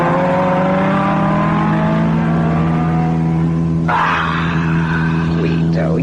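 In a radio drama, a car engine revs and roars loudly and steadily with rising pitch, then a sharper burst of noise takes over near the end.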